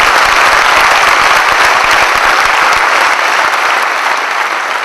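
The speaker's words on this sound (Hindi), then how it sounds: "जोरदार ताली के साथ" Loud, dense applause from an audience welcoming a colleague onto the stage, sustained and close for several seconds and easing slightly toward the end.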